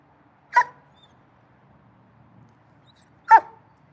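Pet dogs, bored while waiting for a ball to be thrown, give two sharp, close barks about three seconds apart, with near silence between them.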